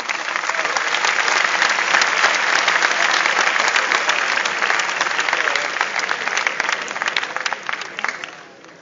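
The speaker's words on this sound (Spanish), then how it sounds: "Vamos a darle un aplauso." Audience applause fills a hall at a video game developer event, sustained steady clapping from a large crowd that holds loud for several seconds before tapering off at the end.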